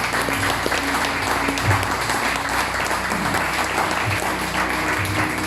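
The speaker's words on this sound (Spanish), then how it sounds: "Dale un fuerte aplauso al Señor." A church congregation gives loud, sustained applause, a dense clatter of many hands clapping steadily throughout, near and full, with a faint voice underneath.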